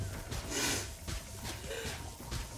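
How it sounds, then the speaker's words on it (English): A person gives one sharp, breathy sneeze burst near the microphone during a live playthrough of Spyro Reignited Trilogy, followed by quieter snuffling breaths, with game audio faint in the background. "you try to sneeze a bit less louder"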